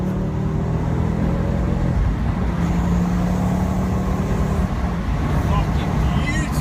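Engine and exhaust drone from a modified Ford Focus ST fitted with a large intercooler and air filter, a steady low rumble running throughout under continuous talk.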